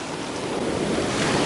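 Sea waves washing onto a beach, a continuous loud rushing surf blended with wind noise on the microphone, with no voices.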